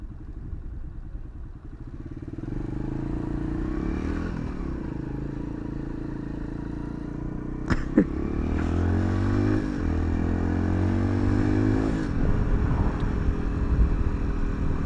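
A motorcycle rides along with a steady engine drone close by, broken by a sharp clack near the middle and shifting engine tone as it slows under braking and pulls again, with no talk.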